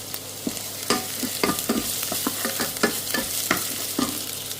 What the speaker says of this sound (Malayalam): നമുക്കിനി അതിലേക്ക് വെളുത്തുള്ളിയും ഇഞ്ചിയും ആഡ് ചെയ്യാം. എന്നിട്ട് നന്നായി ഇളക്കി കൊടുക്കുക.